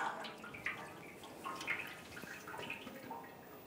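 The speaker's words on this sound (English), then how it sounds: "I'll drain a lot more coolant out." Coolant drains from a 2011-2018 Ram 1500 truck in a steady, soft trickle and splatter of liquid with occasional drips, heard up close and alone.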